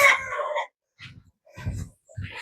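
A chicken gives a few short, close clucks and squawks in separate bursts, with brief silences between them.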